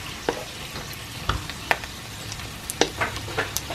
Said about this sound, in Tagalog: Luto tayo ng tuyo.